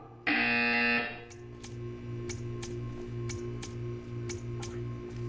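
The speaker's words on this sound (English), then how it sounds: "You will hear a buzzer." Buzzer in the video game Portal 2: a loud, harsh electronic tone holds for about a second, then a faint rhythmic ticking with regular clicks runs on over a steady hum.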